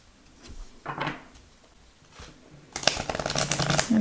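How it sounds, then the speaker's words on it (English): A deck of emotion energy cards is shuffled by hand, first with a few soft separate riffles and slides, then a louder, rapid run of flicking card shuffles, close and clear with no talk. "All right, so I'm going to shuffle the deck here."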